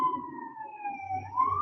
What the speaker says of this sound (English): excuse me for the sirens and stuff.